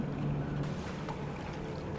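Low, steady lapping and engine-like rumble of a small boat on water in the video game Reanimal, with a faint windy hiss throughout.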